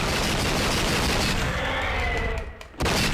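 Dual pistols fire in True Crime: Streets of LA as a dense, continuous volley of loud gunshots with a brief lull near the end before the shooting resumes.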